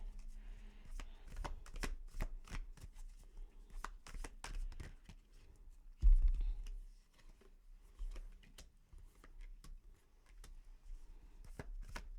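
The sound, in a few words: tarot cards being shuffled and drawn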